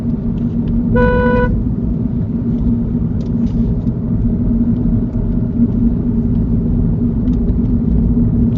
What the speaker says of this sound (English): could you show me how you'd sound the horn?